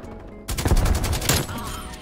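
Krig 6 assault rifle firing in Black Ops Cold War, a loud, fast burst of automatic shots that starts suddenly after a quiet moment and rattles on close and sustained.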